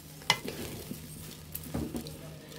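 Rice and vegetables frying in ghee for bhuna khichuri, a faint steady sizzle under occasional scrapes and clinks of a spatula against the pot, one sharper knock near the start, quiet and close.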